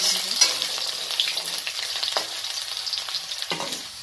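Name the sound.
potato pieces frying in a pan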